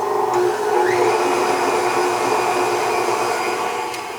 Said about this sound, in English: Now I'm going to turn this up to a medium-high speed, and we're going to knead this for about 2 minutes